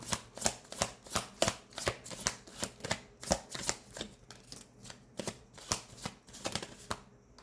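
A deck of tarot cards being shuffled by hand in a quiet room, a steady run of sharp riffling bursts, close and clear with no talking.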